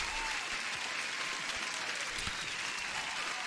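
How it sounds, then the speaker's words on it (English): Applause for a viewer during a live futures-trading stream, a steady, even wash of clapping at low level that continues throughout with no break, likely a played-in crowd effect. "Huge applause for Vivian."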